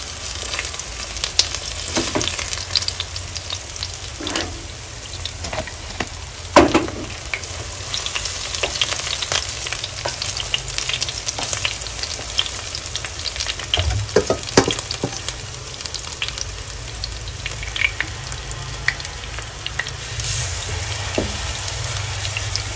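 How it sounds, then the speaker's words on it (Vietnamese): Battered small shrimp frying in hot oil in a pan, a steady dense sizzle with occasional pops and stirring clatter, continuing without talk. "Chiên cho nó hết luôn."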